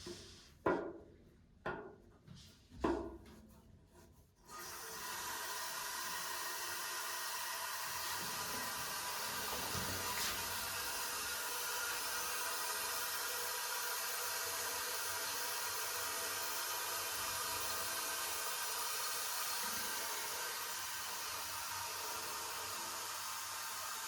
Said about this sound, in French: Il remplit la cuvette des WC, et une fois que la cuvette est bien remplie, ça coupe l'arrivée d'eau